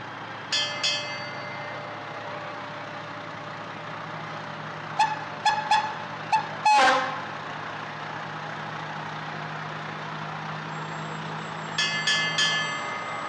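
A 2002 American La France 2,000 gallon-per-minute pumper fire truck idles steadily while several short horn toots sound in bursts, with a brief loud blast near the middle and another quick cluster of toots near the end.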